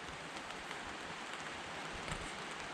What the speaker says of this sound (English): You might hear the pitter patter on the tarp here